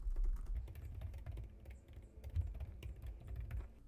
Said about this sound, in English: Now I'm going to type in First Day of 4th grade.